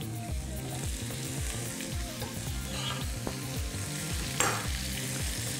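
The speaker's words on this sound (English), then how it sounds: "we want our bacon to cook out and crisp up in the pan with the onions and garlic" Bacon frying with onions and garlic in a pan for beef burgundy gives a steady, close sizzle throughout, broken by repeated scraping and stirring strokes and one sharp clink near the end.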